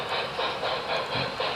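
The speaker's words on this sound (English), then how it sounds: "That's my Reading T1 pulling some of my Canadian Pacific heavyweight cars that are lit with LED lights inside." Model train with a Reading T1 locomotive pulling lit Canadian Pacific heavyweight cars, giving a steady close rolling rumble with soft rhythmic clicking and hiss, loud and continuous with no voices.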